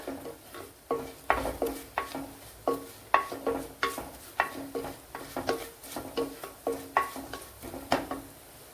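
Coriander, chilli and turmeric powders frying in a pan, stirred in a steady rhythm of regular scraping strokes over a soft sizzle, close and alone with no talk.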